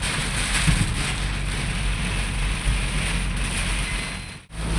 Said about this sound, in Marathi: बापरे ढगफुटी झाली का